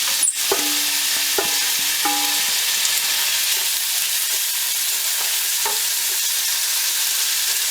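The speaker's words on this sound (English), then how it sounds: "the purpose of this, of course, is just to flavour the oil. So let's get those onions in" Onions frying in oil for dal banjara, a steady loud sizzle throughout with a few clinks from stirring early on.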